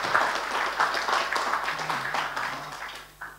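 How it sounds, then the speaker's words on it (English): Applause rises from the audience at a conference opening keynote: a fairly soft, steady wash of many hands clapping, with faint voices underneath. "we should give an applause about those guys"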